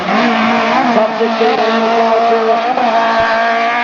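A 20-valve Toyota Corolla AE86 drift car of about 150 brake horsepower at an IDC qualifying round, engine revving loud and close with tire squeal under a commentator's voice.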